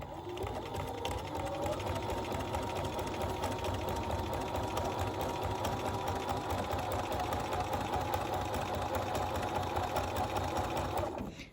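A sewing machine stitches quilt block fabric for a basket diamond block, running in one long, even, continuous hum with a steady mechanical rattle that stays close and unbroken until it stops at the end.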